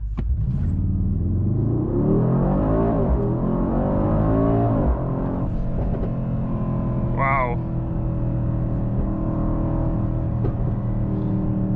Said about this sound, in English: Let's try the acceleration to 100 km per hour.